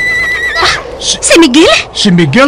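A horse whinnies loudly and close as a radio-drama sound effect, a shrill, wavering neigh heard in a few bursts while a voice calls out over it.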